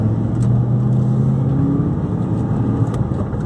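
Steady low engine rumble from a modified 2008 Ford Mustang GT under way on the road, with a droning tone that rises slightly as it pulls; close, continuous and loud, with no talking.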